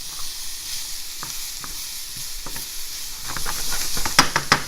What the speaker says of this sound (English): once I got the zucchini and radishes in there, I'm going to let that cook for 2 minutes